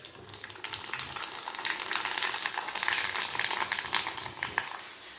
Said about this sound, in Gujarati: તો આપણે જે નાનો છે તે આપણે પાપડ તળીશું.